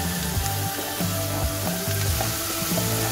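Tomato paste stirred and sizzling in a frying pan among cooked onions for a Turkish Ali Nazik dish, a steady close fry with repeated scraping strokes of a utensil across the pan.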